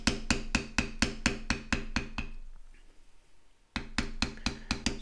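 A mallet strikes a beveler tool on leather in quick, evenly spaced taps, close and crisp, with a short pause of quiet before the rapid tapping resumes.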